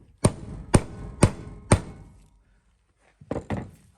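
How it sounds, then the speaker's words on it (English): A hammer strikes a hand impact driver on a seized carburetor screw of a Briggs and Stratton Vanguard 23HP V-twin sawmill engine: four sharp, close knocks at an even pace, a pause, then two quieter taps. "whack with a hammer, we're free there."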